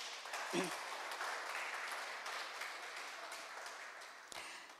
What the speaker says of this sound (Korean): 다시 한번 선생님의 그 큰 사랑에 여러분 박수 한번 보내주시겠습니까?